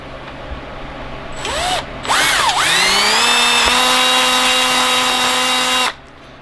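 A power drill enlarging a hole for a rear bumper on a 2020 Polaris PRO RMK snowmobile whines up to speed, its motor note rising in pitch, then holds a steady loud drone for several seconds before cutting off.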